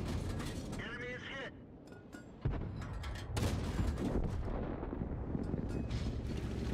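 Artillery fires in the World of Tanks video game, with heavy booming shots that rumble and roll out over a busy mechanical game backdrop.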